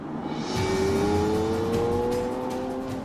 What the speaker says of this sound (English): Every car is given its own test drive around the local area